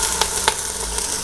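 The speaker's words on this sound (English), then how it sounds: "Sizzle, sizzle, sizzle" Steady close-up sizzling of roast beef browning in a hot Cuisinart pressure cooker pot, a continuous crackling hiss with a few sharper pops.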